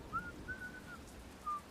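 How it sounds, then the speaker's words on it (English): Faint, thin whistling of a soft tune gives a few short, wavering notes at a distance over a low rumbling background of heavy night rain. "I could hear some guy whistling a soft tune, getting closer and closer"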